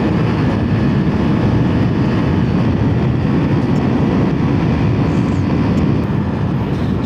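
A Suzuki Raider 150 carburetor motorcycle engine roars loud and steady at high speed during a friendly race against an RS 150, with heavy wind rush over a continuous drone and no talking.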